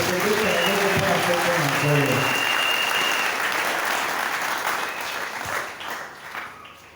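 A church congregation claps loudly in sustained applause that gradually thins and fades toward the end, with a preacher's voice heard over it at the start.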